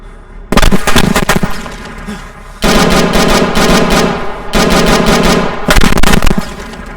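Dense bursts of gunfire and blasts in the military shooter ARMA 3 come in three loud volleys separated by short lulls, with crackling shots layered over a heavy low rumble.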